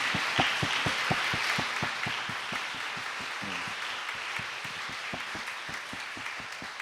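A church congregation applauds together in encouragement during a worship service, a steady, even burst of many hands clapping that carries on for several seconds and tapers slightly toward the end.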